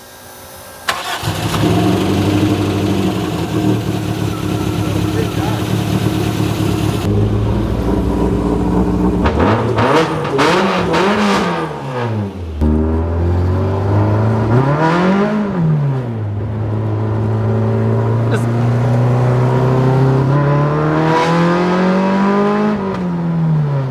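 Toyota Starlet 5E-FE engine with individual throttle bodies running on methanol, starting up loud and close, then revved repeatedly in rising and falling sweeps between stretches of idle.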